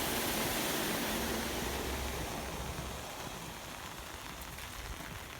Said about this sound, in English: This is just normal rain.